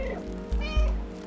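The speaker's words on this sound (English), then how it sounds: "Why does it say press B to meow?" A cat character meows a couple of times in the video game Stray, short and fairly close over a soft game backdrop.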